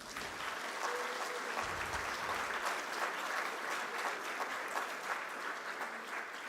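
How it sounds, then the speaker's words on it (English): Steady round of applause from a ceremony audience honoring the Infosys Prize 2024 laureates seated in the front row, fairly distant and even throughout. "let's give our Infosys Prize 2024 laureates who are seated here in the first row a round of applause"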